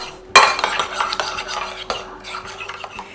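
A spoon stirs harissa paste and salt into yogurt in a bowl, giving close, wet scraping broken by a sharp metal clink at the start and a few lighter taps.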